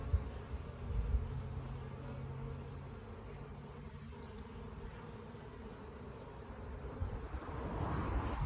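Honey bees buzz steadily around an opened hive during a mite check, a dense close swarm hum holding for the whole stretch and swelling slightly near the end.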